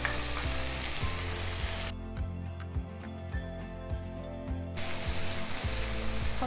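Onion for tacos sizzles and fries in a pan, a loud continuous crackling hiss with rhythmic stirring scrapes, close by and with no talking.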